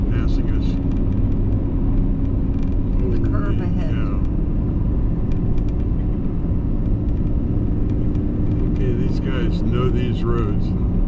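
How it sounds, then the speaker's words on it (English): An 18-wheeler truck overtakes on a mountain highway near a closed ski area, heard from inside a moving vehicle as a steady, loud low road rumble with a swelling pass and voices talking over it. "There goes an 18-wheeler passing us."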